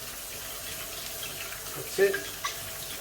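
Tap water runs to rinse the parts of a Breville Compact Juice Fountain juicer in a sink, a soft steady stream with a brief splash near the end, as a voice speaks briefly.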